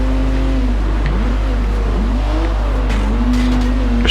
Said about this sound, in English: So this is the BMW 235i in action.